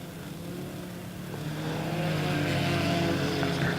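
Race cars roar around Lebanon Midway Speedway during a heat race, several engines droning and building louder as the pack passes, a steady rising motor whine.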